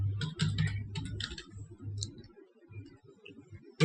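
Light keystrokes tap on a computer keyboard as text is entered into an Excel spreadsheet, close and fairly quiet, in short bursts with brief pauses.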